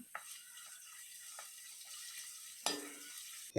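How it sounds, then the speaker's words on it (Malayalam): Chopped ginger and garlic sautéing in hot coconut oil produce a faint, steady sizzle, punctuated by a few soft spoon scrapes and a sharper clatter near the end. "വെളിച്ചെണ്ണ ചൂടായി തുടങ്ങുമ്പോഴേക്കും അതിലേക്ക് ഇഞ്ചി ചെറുതായിട്ട് അരിഞ്ഞത് ഒരു ടീസ്പൂൺ അതുപോലെ വെളുത്തുള്ളി ചെറുതായിട്ട് അരിഞ്ഞത് ഒരു ടീസ്പൂൺ എന്നിവ ചേർത്ത് നന്നായിട്ടൊന്ന് മൂപ്പിക്കാം"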